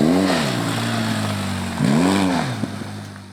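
An off-road motorcycle idles at high rpm in first gear, and the throttle is blipped twice. Each blip makes the engine note surge up and fall back, close and loud.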